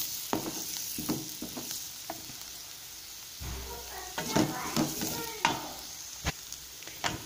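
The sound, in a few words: eggs frying in onion masala in a pan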